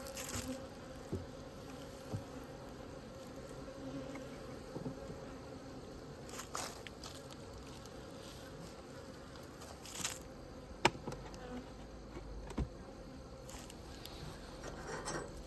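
Honey bees hum in a low, continuous buzz around a hive, with occasional faint taps and rustles.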